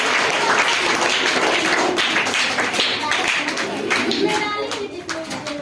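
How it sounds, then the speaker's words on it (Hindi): Loud audience clapping at a Saraswati Puja school gathering, dense close applause with a few voices mixed in, fading slightly over the last second. "तो जोरदार तालियां"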